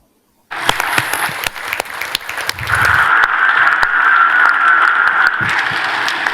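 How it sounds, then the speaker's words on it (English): Sustained clapping from an audience after a talk starts abruptly after a short silence and builds into steady, dense applause that carries on to the end. "there was the applause"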